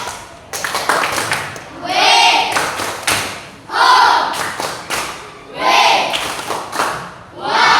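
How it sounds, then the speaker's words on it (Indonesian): Classroom students clapping in several loud bursts of applause, each lasting about a second or two, separated by pauses with a teacher speaking in between. "Tepuk tangan"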